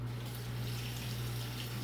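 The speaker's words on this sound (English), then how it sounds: "I'm about to just run this egg under hot water" Hot tap water running over an egg in a home kitchen, a steady continuous rush with a low hum underneath and no pauses.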